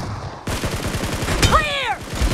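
Rapid automatic gunfire in the shooter game BGMI rattles in a dense, loud string of shots, with a brief whistling ricochet-like sweep partway through and a voice calling out over the action.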